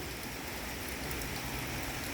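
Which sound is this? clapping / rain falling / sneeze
rain falling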